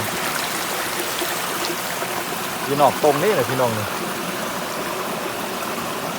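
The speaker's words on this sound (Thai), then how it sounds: "ทางน้ำไหล" A stream runs through rice fields after a heavy rainstorm, giving a steady broadband rush of water close by. Someone speaks briefly over the flow partway through.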